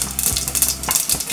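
Mustard seeds fry in hot oil for a cabbage curry, giving a close, steady crackle with a few brief stirring scrapes over a low hum.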